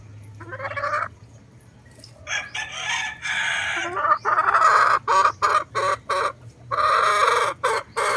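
A Straight Boston roundhead rooster crows repeatedly, with loud, close calls and clucking from other fowl in a farm setting, over a low steady background hum.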